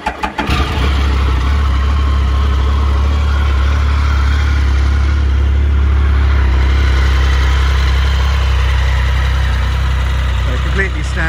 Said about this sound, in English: I think they sound really good with those exhausts on.